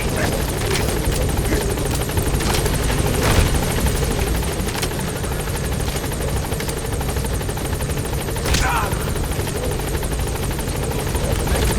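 A helicopter from Metal Gear Solid V drones steadily and loudly throughout, its rotor thrum and turbine whine continuous as it climbs, with faint radio-style voices briefly over it.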